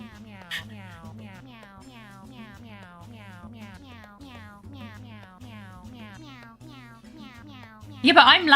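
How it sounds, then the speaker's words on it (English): A cat in the video game Phoenix Wright: Ace Attorney sings aggressively in a long run of rhythmic, rising meows over a steady backing, with a brief loud burst near the end. "when you tab out of the game, the cat starts singing aggressively"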